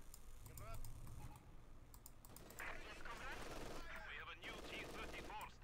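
Machine gun fire from Company of Heroes 2 rattles in quick bursts, Soviet forces facing Wehrmacht, sharp rapid cracks mixed with game effects while a commentator talks over the action.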